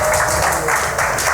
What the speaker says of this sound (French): Mesdames, applaudissez pour vous.